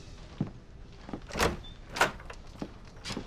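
A door is opened for a visitor, with several close knocks, thumps and scraping rattles of handling and movement in an uneven sequence of short, loud bursts, and no talking.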